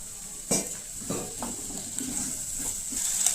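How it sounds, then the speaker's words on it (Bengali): Ground red chilli, Kashmiri chilli, coriander, cumin and garam masala sautéing with a little water in a pan, a steady close sizzle broken by a few clattering scrapes of a spoon against the pan. "সামান্য জল দিয়ে একটু কষবো, আরও 2-3 মিনিট কষবো"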